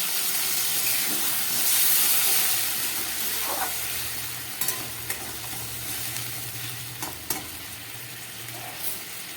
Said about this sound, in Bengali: মশলাটা কষে গেছে তেল বেরিয়ে গেছে আমি দিয়ে দিচ্ছি খুব সামান্য একটু জল